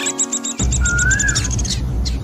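Birds chirp in a tree in a cartoon, bright repeated tweets and a rising whistle over a rustling background, fairly close and loud.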